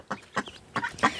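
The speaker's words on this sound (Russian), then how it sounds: "Это индоутята такие у нас подросли уже." Young Muscovy ducklings give four quick, high peeping calls in close succession, fairly faint and near, with no talking.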